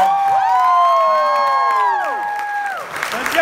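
Comedy club crowd at Gotham Comedy Club cheers and whoops loudly with applause beneath, high rising and falling yells from many voices filling the room throughout.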